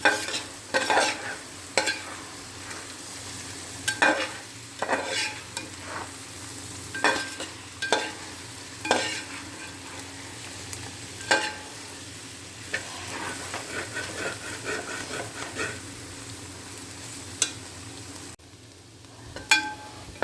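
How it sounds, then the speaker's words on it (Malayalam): Thrissur-style beef is stirred and fried with garam masala in a pan: sharp, irregular spoon strikes and scrapes ring out over a low, steady sizzle, close by, with a short quieter stretch near the end. "കുറച്ച് ഗരം മസാല ഇനി നന്നായിട്ട് ഇളക്കി മൊരിയിച്ചെടുക്കണം"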